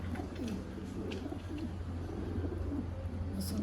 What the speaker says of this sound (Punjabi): ਇਹ ਕਬੂਤਰ